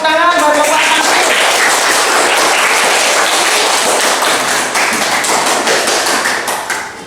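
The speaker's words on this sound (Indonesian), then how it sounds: "Mari kita beri tepuk tangan bagi Bapak Nasir." An audience at an Indonesian university teaching-practice session claps in a loud, dense burst of applause that stays steady, then thins out toward the end.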